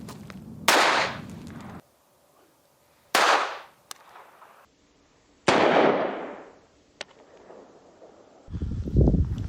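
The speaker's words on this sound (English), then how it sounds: "So even a 22 caliber blew the magnet a few feet away." A .22 caliber gun fired at a 60-pound magnet rated for 100 pounds, giving several loud, sharp cracks separated by quiet gaps, each followed by a short decaying tail, with no talking.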